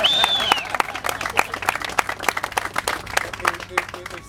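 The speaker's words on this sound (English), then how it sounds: "Let's give Steve another round of applause." Small crowd at a groundbreaking ceremony for a new facility clapping in sparse, distinct individual claps, with a brief whistle-like tone at the start and voices murmuring in the background.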